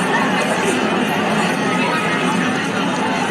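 A crowd of people talking at once, a constant murmur of many voices blending into babble with no pauses.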